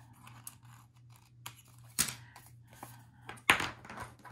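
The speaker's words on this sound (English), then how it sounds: "I'm going to turn it over and trim off the excess" Scissors trim excess material in two sharp snips at close range, separated by quieter rustling, over a low steady hum.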